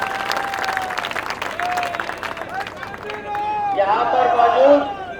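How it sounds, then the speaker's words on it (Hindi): A crowd at a Haryana election rally in Maheshwari village applauds to welcome Deepender Hooda, with loud clapping and cheering under a speaker's amplified voice, swelling toward the end. "एक बार जोरदार तालियों से इनका आप सब स्वागत करें।"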